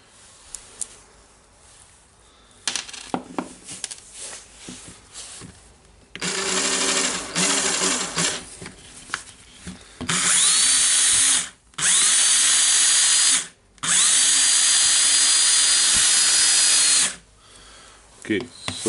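A restored 1998 Makita cordless drill whirs in several bursts of increasing length, each a steady high motor whine spinning up and cutting off, close and loud, with handling clicks between runs.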